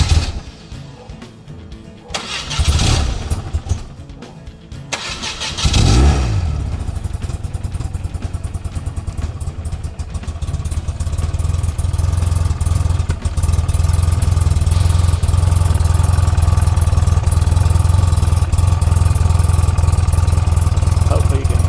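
A cold vintage BMW motorcycle starts on the button after a few cranking attempts, then settles into a steady, loud, close idle that runs continuously to the end.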